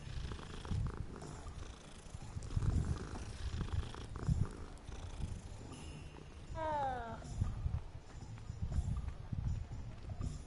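A cat being petted in the video game Hogwarts Legacy purrs softly in a low, rumbling pulse, with a brief meow partway through and faint footsteps around it.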